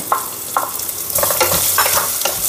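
Onions frying in a pan for tomato bath sizzle loudly and steadily up close, broken by several brisk stirring scrapes and clacks of a utensil against the pan.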